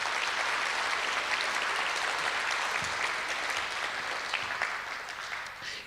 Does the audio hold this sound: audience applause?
yes